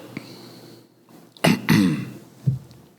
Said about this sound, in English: You just gotta clear his throat.